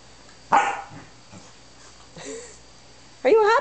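A Corgi gives a couple of short barks with soft whimpering sounds in between, close and fairly loud in a quiet room.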